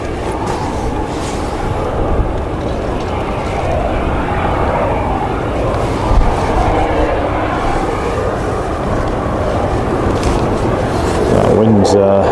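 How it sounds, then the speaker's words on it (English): Jet2 airliner taxiing at Leeds Bradford Airport, a loud continuous engine roar and rumble heard from outside with wind noise, steady throughout, with a brief voice right at the end. "Jet2 on the move."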